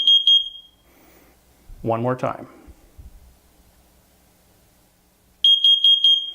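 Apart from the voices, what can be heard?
carbon monoxide alarm beeping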